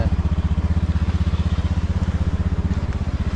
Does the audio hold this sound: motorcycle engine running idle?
yes